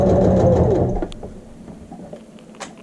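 A sewing machine stitches a patch onto fabric over a slit hole, running in a loud steady mechanical whir for about a second before stopping, followed by faint clicks and handling sounds.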